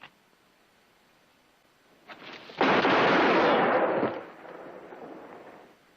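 A rifle shot rings out in a classic Western TV drama, a single loud sharp crack with a long echoing decay, preceded by a faint rustle and trailing into a quieter reverberant tail.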